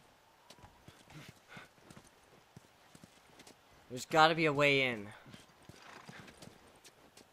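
Horse hooves clip-clop in The Last of Us Remastered, sparse soft steps giving way to a loud, close horse whinny mid-clip, with someone speaking briefly beforehand.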